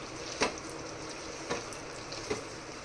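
Chicken bhuna frying in a pan, a quiet steady sizzle broken by three distinct scraping strokes of a spoon stirring the pieces, no talking.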